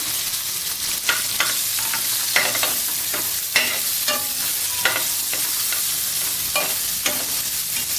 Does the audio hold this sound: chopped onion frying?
yes